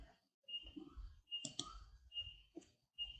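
Quick clicking bursts of typing on a computer keyboard, coming in short uneven clusters with brief pauses between them, faint and close, with no talking over them.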